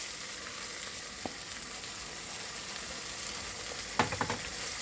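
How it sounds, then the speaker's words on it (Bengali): Pre-fried soya chunks dropped into a hot pan of chilli sauce, a constant close hiss of frying with a short burst of crackle and spatter near the end as they land. "এখন সয়াগুলো যে ভেজে রেখেছিলাম সেটা পুরোটা এটার মধ্যে দিয়ে দিচ্ছি।"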